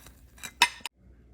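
A cooked pancake is lifted from a 12 cm pancake pan onto a plate, producing a few quick close metallic scrapes and clinks before the sound falls silent.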